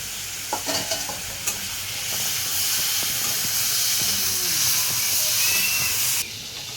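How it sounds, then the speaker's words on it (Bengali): Pieces of pumpkin fry in a pan with a steady, close hiss of sizzling oil, opened by a few clinks and scrapes of a spatula stirring, the sizzle swelling and holding until it cuts off. "তো আমার কুমড়োটা ভাজা হয়ে গেছে"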